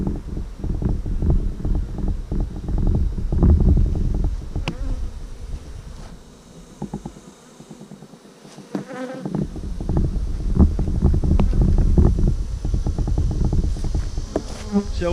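Honeybees buzzing around an open hive, a dense close drone of many wings with individual bees zipping past the microphone, steady throughout with a brief dip partway and light wind noise.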